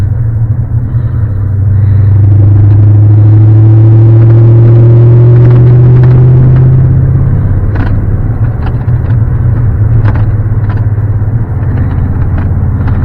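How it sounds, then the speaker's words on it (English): A 1989 C4 Corvette with a six-speed manual, driven on the road with a steady loud engine rumble and droning tone that rises then settles, and small clicks and rattles through the cabin. "This car rattles a lot, but it's whatever."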